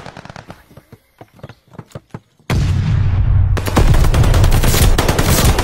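Video-game gunfire in a battle over a hard point in the Normandy bocage: a string of separate sharp shots, then a dense, loud, sustained roar of rapid fire and blasts.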